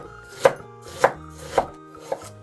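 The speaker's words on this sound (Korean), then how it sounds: "양파 1개를 어슷하게 잘라줍니다" A knife slicing an onion diagonally on a cutting board, four crisp evenly spaced cuts about half a second apart, close and distinct, under soft background music.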